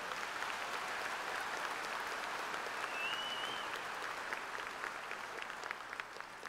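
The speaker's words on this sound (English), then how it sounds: "Let's give them a big round of applause." An audience at a 2025 Dodge City Public Schools graduation ceremony applauds steadily, a dense, even wash of clapping from a large crowd that holds at a fairly constant level and sounds somewhat distant.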